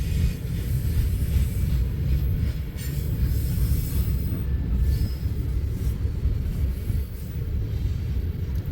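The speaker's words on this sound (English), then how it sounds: "Man, what a hodgepodge of cars on this train." A long, mixed Union Pacific freight train of rapid-discharge cars and rotary gondolas rolls past close by, giving a steady, heavy rumble with faint wheel squeal and no talk.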